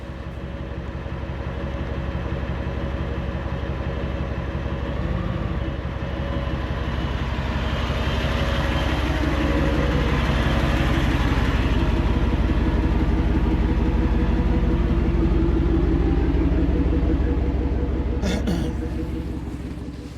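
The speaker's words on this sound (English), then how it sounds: "let's go and take this truck out for a test drive to see if we have any harmonics or vibration issues" A 2024 Ford F-150 4x4 pickup with a 5.0L engine on a test drive, with a steady low engine and drivetrain drone swelling gently as it accelerates, heard from inside the cab, with a brief click near the end.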